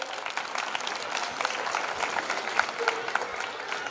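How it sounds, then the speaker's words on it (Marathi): Steady applause from an audience at a school annual function, a dense, continuous patter of many hands clapping throughout, fairly loud and close with slight crowd murmur underneath. "मला वाटतं टाळ्यांचा आवाज जरा कमी येतोय."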